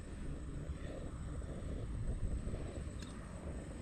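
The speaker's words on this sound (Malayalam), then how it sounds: "നല്ല കാറ്റുണ്ട്." Strong wind blows steadily across the microphone at a cold desert campsite, a continuous low rumbling roar with gusty swells and no voices.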